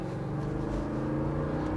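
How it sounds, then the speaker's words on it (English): A Lexus GX460 V8 SUV accelerates hard in sport mode on a test drive, its engine a steady, loud, close drone with a rising growl throughout, no voices over it. "That V8 will get you going"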